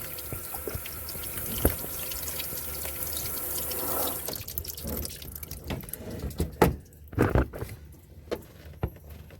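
Water trickles and drips steadily through a Ford Transit air intake, with a denser running flow early on giving way to scattered splashes and drips near the end.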